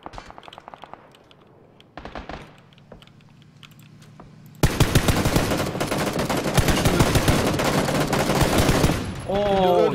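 Gunfire in PUBG: scattered shots and keyboard clicks at first, then a loud sustained burst of rapid automatic fire, with a voice briefly heard near the end.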